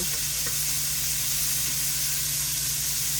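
Seasoned shrimp sizzle steadily in a hot pan, a close, continuous frying hiss with a faint low hum beneath and one brief clink early on as a piece is turned.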